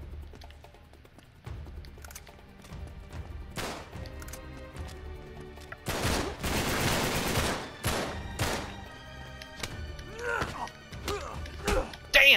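Gunshots from a firearm in Uncharted 3: Drake's Deception, set in the London Underground, scattered sharp cracks building into a louder burst of rapid fire midway, mixed with impacts and clatter and someone speaking at times.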